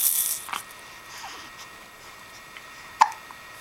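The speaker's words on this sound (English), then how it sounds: "we're going to try to make those hiccups go away" A baby hiccups twice, a small sharp catch near the start and a clearer one toward the end, with quiet room tone between.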